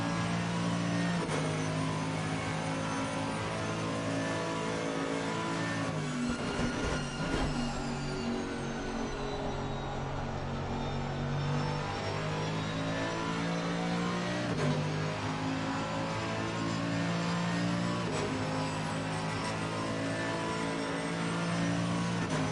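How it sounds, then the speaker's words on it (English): A loud V8 GT3 race car engine in a racing video game revs continuously down the main straight at Monza, its pitch climbing and dropping through gear shifts, with no talking. "Hear him winding that big V8 up down the main straight at Monza."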